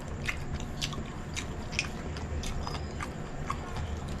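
Crispy chicharon tumbong is bitten and chewed up close, with a series of sharp crunchy snaps over a soft background hum.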